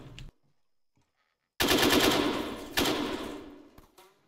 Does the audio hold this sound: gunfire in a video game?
yes